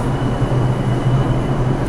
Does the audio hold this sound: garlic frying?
no